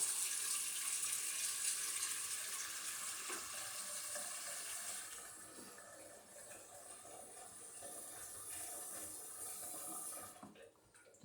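Cool water pours steadily into a batch of homemade apple wine, a continuous splashing rush that stays fairly even for about ten seconds before tapering at the end.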